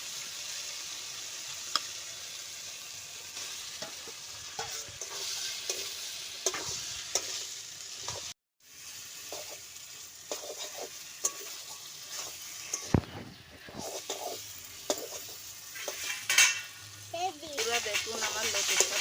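Taro stolons (kochur loti) being stirred into spiced oil in a pan, giving a steady frying sizzle with frequent scraping stirs, a short break midway and busier stirring toward the end.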